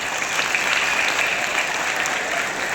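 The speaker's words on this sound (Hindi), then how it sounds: "जो बच्चे इतनी देर से बैठे हैं ना, उनके लिए कुछ ताली वाली हो जाए।" Steady, dense applause from a large audience for children at a public gathering, a continuous wash of many hands clapping at even loudness throughout.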